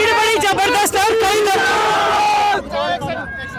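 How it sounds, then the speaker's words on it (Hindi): A large crowd at a political campaign rally cheers and chants loudly up close, a dense wall of overlapping voices and shouts that eases somewhat near the end. "भीड़ बड़ी जबरदस्त"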